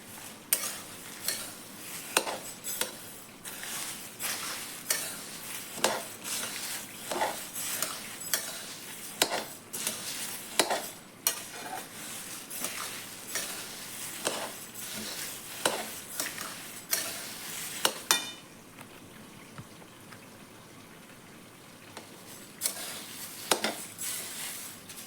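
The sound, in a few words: stirring bay leaf into sizzling onion garlic masala in a pan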